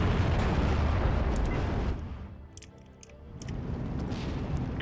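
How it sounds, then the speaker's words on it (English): Mortar fire in a WWII video game featuring the 16th Panzer Division: a dense, continuous roar of blasts and rumble that drops away briefly mid-clip, with a few sharp cracks, then surges back. "lot of mortar fire here"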